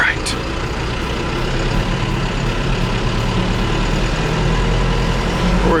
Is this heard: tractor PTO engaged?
yes